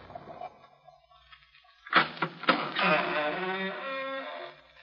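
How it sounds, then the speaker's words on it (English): Faint metallic fiddling on a padlock gives way to a couple of sharp clicks, then a sustained grinding, scraping rattle of metal working against metal as the lock is picked. "we'll just do a little lock picking and have a look"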